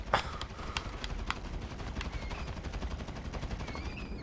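AK-47 fire in GTA V while hunting rabbits outdoors, a run of sharp separate shots in an uneven rhythm, with game ambience steady underneath and no voices.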